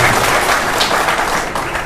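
Audience at a political meeting in Jaipur clapping, a dense patter of hands that stays loud and even for about two seconds, with no talk over it.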